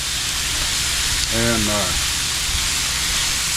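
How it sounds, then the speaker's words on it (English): Chicken strips sizzle in a hot pan seasoned with Bayou blend, a loud, steady frying hiss close up, with someone briefly talking over it midway. "Nice good sizzle already."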